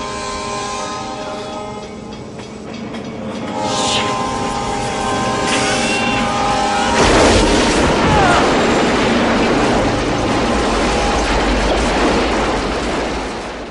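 A loud train from Back to the Future Part III rumbles past with a blaring horn, then a heavy crash and grinding noise as it smashes the DeLorean.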